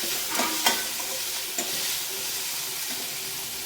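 Onions and tomato fry in a pan with a steady, close hiss of sizzling, broken by a couple of soft clinks of stirring.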